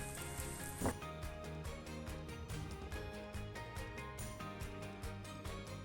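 A thin crepe for a meat roll fries on one side in a pan, giving a soft, steady sizzle with light crackles that continue evenly throughout, quiet and close, with no talking.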